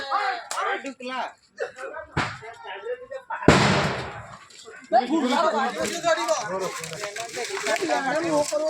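Firecracker bombs are set off in a forest area to scare off wild elephants, with a sharp loud blast cutting through excited shouting and chatter from a group of people.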